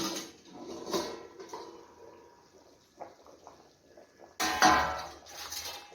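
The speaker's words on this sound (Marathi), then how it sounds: "झाकण काढूया" A metal lid comes off a cooking pot of chicken biryani boiling on a high gas flame, giving a sudden loud clatter and scrape partway through, amid quieter kitchen clinks and bubbling.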